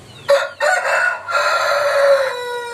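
A young gamecock rooster crows close and loud, one long cock-a-doodle-doo broken into several sustained, strained segments that trail off at the end, with no voices.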